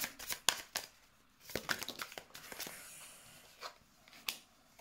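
Tarot cards shuffled and drawn, quick riffling flutters and sharp card snaps in irregular bursts, close and quiet, with no talking.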